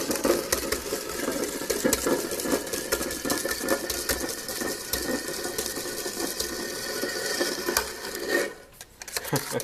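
Buttercake batter stirred and beaten by hand in a bowl, a steady busy scraping and sloshing rhythm running continuously up close, then briefly pausing near the end before resuming.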